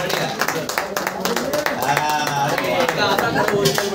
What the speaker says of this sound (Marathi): एकदा जोरदार टाळ्या होत्या सुप्रिया मॅडम साठी